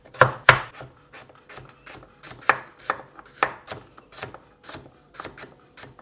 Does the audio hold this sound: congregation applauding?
no